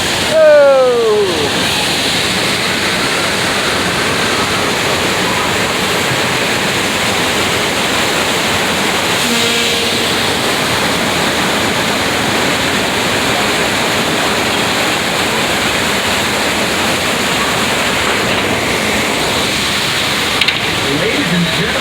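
Rushing water effect on a studio tour ride, a loud continuous roar of gushing, splashing water that fills the whole stretch, with a brief shout near the start.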